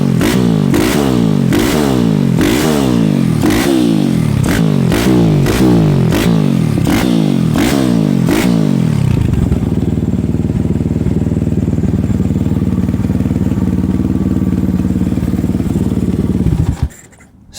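A Piranha Daytona 190 pit bike with fresh jetting revs loudly in a run of sharp, rising bursts, then settles into a steady rough idle before cutting off.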